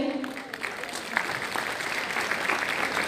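An audience claps steadily, a sustained burst of applause throughout.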